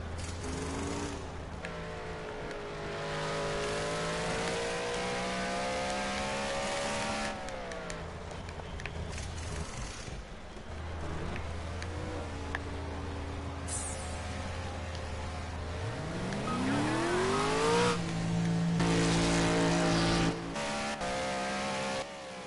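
GT3 and GT4 race cars roar past in a loud, continuous stream of engine noise, with rising and falling revs as cars accelerate and pass close by, and no talking heard.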